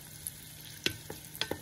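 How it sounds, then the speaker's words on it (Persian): Raisins sautéing in butter with turmeric and black pepper in a frying pan, a few stirring scrapes and soft sizzling bursts over a quiet background. "یه قاشق باقی مانده کره رو بهش اضافه میکنیم که یه مقدار این کشمش ها رو یه سر تفت بدیم"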